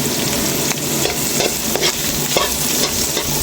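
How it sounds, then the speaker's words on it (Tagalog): Sliced onions sizzle steadily in hot oil in a pan, with several distinct scraping knocks from a spatula stirring them; close and fairly loud, with no talking. "Nilagay na agad yung sibuyas mga idol."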